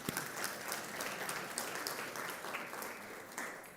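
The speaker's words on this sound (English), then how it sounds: "Let's give them a round of applause," An audience at a public event on food access and healthy eating breaks into applause, a dense, sustained clapping that stays fairly even throughout at a moderate level, with no voices over it.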